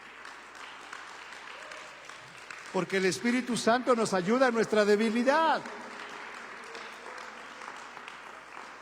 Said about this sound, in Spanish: Denle un aplauso al Espíritu Santo de Dios